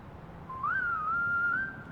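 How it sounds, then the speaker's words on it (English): A single person whistles a short melodic song intro, one clear sustained tone that rises and then holds steady, loud and close over a faint background hum. "I love the whistle."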